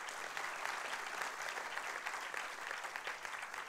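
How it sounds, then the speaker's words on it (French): An audience at a business forum panel claps steadily, a dense, even patter of many hands that holds at one level throughout, heard from a distance. "Vous pouvez les applaudir."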